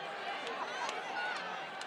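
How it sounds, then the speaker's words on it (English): A stadium crowd at a Legends Football League game in Australia, a steady wash of murmuring fans under a commentator's voice. "the crowd is starting to come to life"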